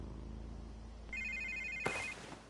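A phone in a Batman video game rings with a steady electronic tone over quiet ambience, ending in a sharp click partway through.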